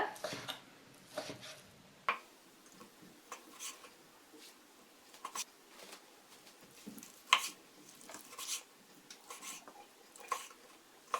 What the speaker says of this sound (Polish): Teraz mogę kroić przestudzone mięso. Mięso kroję w dosyć grubą kostkę.